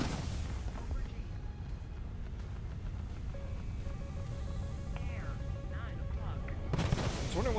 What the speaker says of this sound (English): that's gunfire below me